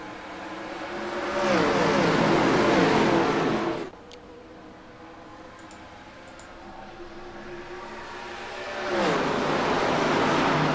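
Race cars roar in an iRacing sim event at Talladega as the green flag falls, a loud broad engine rush swelling, dipping briefly to a steadier drone mid-pass, then surging loud again, with no talk.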